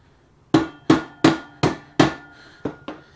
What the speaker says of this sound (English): I'm gonna need my rubber hammer on these though, because they are a little bit rounded off.